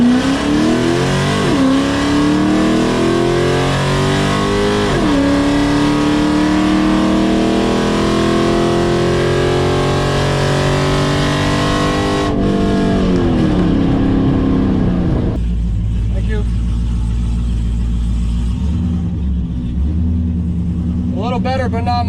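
A drag race car on a test pass at Heartland Motorsports Park in Topeka, Kansas, loud engine revving and climbing through several gear shifts, then the roar drops away to a lower rumble near the end.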